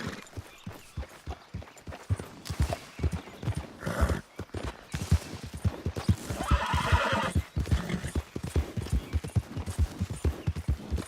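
A horse in Red Dead Redemption 2 galloping with rhythmic, close hoofbeats that run through the whole stretch, with a loud neigh partway through and no talk over it.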